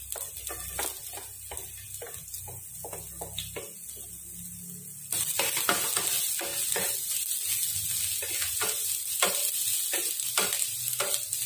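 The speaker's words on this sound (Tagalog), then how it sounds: "Ang sa akin guys ay pagsasama-samahin ko na siya at igigisa ko siya ng minsanan." Seasonings sauté together in a pan for adobong labong, a bamboo shoot dish. A busy sizzle and rapid ratcheting spatula scrapes and clacks play close up, and the sound grows louder and hissier partway through. No one speaks.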